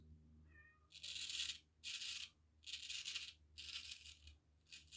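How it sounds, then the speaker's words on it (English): A pet cat meows repeatedly nearby in a quiet room, five long, loud cries with short pauses between them, over a low steady background hum. "My cat's meowing"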